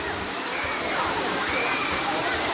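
Sai Yok Noi waterfall in Kanchanaburi, Thailand, with crowds of tourists, a steady full-band rush of falling water heard close and continuous, a voice talking over it.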